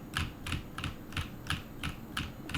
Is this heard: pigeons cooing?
no